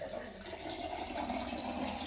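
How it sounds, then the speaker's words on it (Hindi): Water pours and splashes down onto a floor indoors at home, a steady continuous rush with no break across the moment. "ऐसे नहीं करो ना, सारा पानी नीचे गिराती हो"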